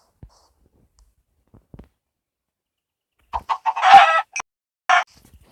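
A Minecraft chicken gives a few short clucks close up, isolated bursts after near silence with faint clicks.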